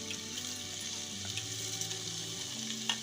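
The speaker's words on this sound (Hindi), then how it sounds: "अब इसमें धुले हुए चावल डाल देंगे।" Washed rice tipped into a pan of hot spiced masala, giving a steady close sizzle with light stirring scrapes and a faint soft clink near the end.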